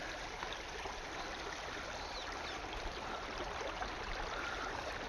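River water rushes and flows continuously during a river crossing on a pilgrimage walk, a dense, steady wash of sound close by with no talk over it.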